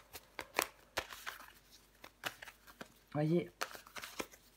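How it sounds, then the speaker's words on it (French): Tarot cards being handled and laid out make a series of sharp, close slaps and flicks in an uneven rhythm, with a short burst of speech in the middle. "Je vais recouvrir des cartes."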